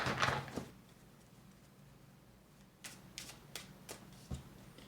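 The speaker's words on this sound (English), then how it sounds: "One more shuffle for Cancer." Tarot cards being shuffled by hand: a rustling riffle at the start, then a run of short, separate flicks and snaps of card stock, close and fairly quiet with no talking.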